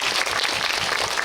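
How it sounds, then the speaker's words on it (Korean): A brief, dense burst of applause from an audience at a film screening Q&A event, steady and full without any speech. "박수 주셔야 될 것 같은데요."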